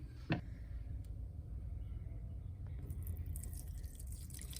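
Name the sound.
whey dripping through cheesecloth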